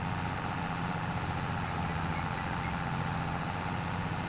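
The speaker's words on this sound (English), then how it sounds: "Tractor's struggling a lot, and we're even going downhill actually" A tractor engine strains under load in Farming Simulator 22 while rolling downhill on wide tires, giving a steady low droning rumble that stays constant and fairly loud with no talk over it.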